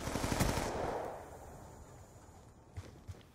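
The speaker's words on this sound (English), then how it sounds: "Stop shooting, I can hear you already." Automatic gunfire in a Call of Duty Black Ops 2 free-for-all online match on the Studio map: a loud, dense burst of rapid shots up front, then two sharp, isolated shots near the end.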